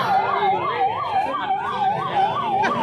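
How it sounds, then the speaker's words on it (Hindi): An ambulance siren wails in a steady, rapid up-and-down cycle, loud and close as it passes a street procession behind a banner, with traffic rumble underneath. "एम्बुलेंस को निकल जान दो"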